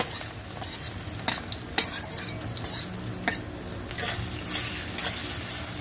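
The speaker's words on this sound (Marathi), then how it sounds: "तेल तापलं की आपण यात बारीक चिरलेला बटाटा घालणार आहे" Finely chopped potato frying in hot oil in a kadhai, a steady close sizzle with scattered sharp crackles and the occasional scrape of a stirring spoon.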